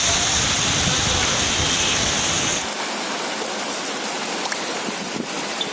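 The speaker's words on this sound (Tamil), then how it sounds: "இதேபோல் ராமநாதபுரத்திலும் பலத்த காற்றுடன் மழை பெய்தது." Heavy rain driven by strong wind in Ramanathapuram, a dense loud hiss of downpour that suddenly thins about halfway through into lighter, steadier rainfall without the deep rumble.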